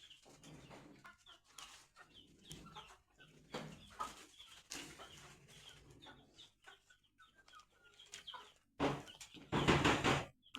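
Chicks and hens cluck and peep inside a small poultry brooding shed, a busy mix of chirps and soft clucks with a louder burst of flapping or scuffling near the end.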